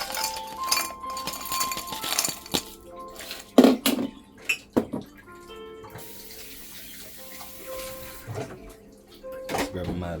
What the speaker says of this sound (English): I'm gonna add my ice.